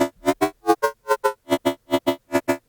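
A Serum synth bass built from square and sine oscillators with wide unison plays a choppy rhythmic pattern of short, buzzy stabs, loud and alone, with pitch shifting between pairs of hits.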